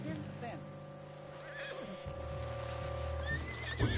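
A horse in the Red Dead Redemption 2 video game whinnies, with shrill neighing rising over game ambience, hoof and tack noises, and a voice talking nearby.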